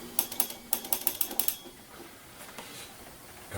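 A relay switched by a 12-volt charge controller that runs a 120-volt fan clicks in a rapid series of about ten sharp, close ticks in uneven pairs, then quiet low background hum follows.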